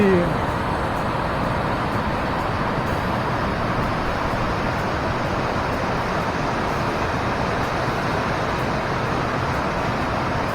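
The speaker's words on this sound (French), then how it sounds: "Et voilà les cascades de Jassy." Jassy waterfalls in the Cézallier uplands of Auvergne, heard as a steady broadband roar of falling water that holds even and loud for the whole stretch, with no voices over it.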